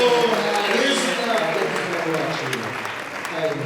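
A church congregation applauds the pastor at a Kinyarwanda sermon, with steady, dense clapping sustained throughout and a faint voice mixed in.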